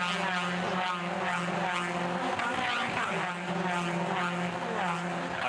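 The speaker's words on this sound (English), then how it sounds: "I swear in among there I heard a missed gear change" Toyota 86 race cars in a one-make series race at Sydney, a pack of engines roaring together in a steady, dense blare with harmonic whine, a missed gear change buried somewhere in the mix rather than standing out.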